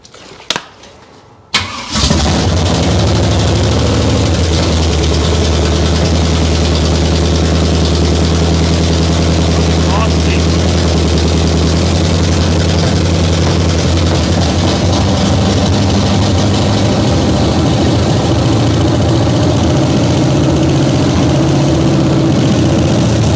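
A 1968 Chevrolet Camaro V8 engine cranks and catches, then settles into a loud, uneven, rough-running idle with a deep throbbing rumble that continues steadily.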